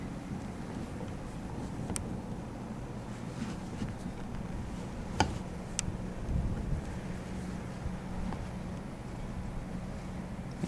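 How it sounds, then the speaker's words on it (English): Outdoor wind buffets the microphone around a CB radio setup, producing a steady low rumbling roar with a few faint clicks, with no voices. "wind is fighting me here"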